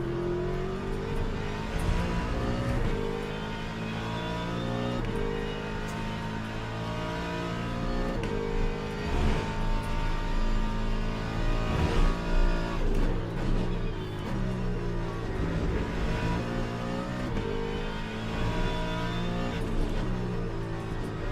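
Race car engines in the Le Mans Ultimate sim racing game howl continuously, rising and falling through gear shifts and throttle lifts, with a Mustang among the cars; loud and steady throughout, with no voices.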